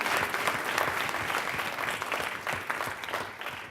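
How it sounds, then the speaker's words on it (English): An audience at a Johannesburg speaker event gives a short burst of clapping, a dense, moderately quiet round of applause lasting a few seconds. "Can we get a round of applause for that one?"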